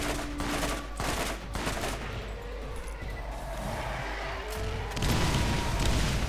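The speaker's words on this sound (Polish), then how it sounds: "Ale wybuchów poszło." Rapid gunfire and heavy explosions erupt together in a chaotic Borderlands video game firefight, a dense, loud barrage that swells again toward the end.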